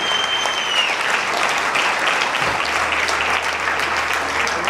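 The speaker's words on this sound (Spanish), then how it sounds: "Vamos a darle ese aplauso fuerte." A congregation at a church service claps loudly and steadily in sustained applause, a dense continuous roar of hands with a faint voice briefly underneath.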